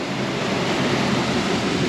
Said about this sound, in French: Attention, oh les vagues, ah oui les vagues qui arrivent, hein.